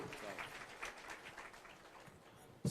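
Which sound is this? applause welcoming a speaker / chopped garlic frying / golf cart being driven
applause welcoming a speaker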